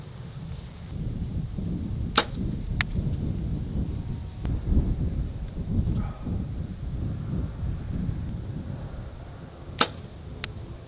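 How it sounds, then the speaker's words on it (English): Arrows shot from a compound bow outdoors, heard as a few sharp thin snaps spread apart over steady wind noise, with no talk. "I'm gonna just get some video footage of me slinging some arrows"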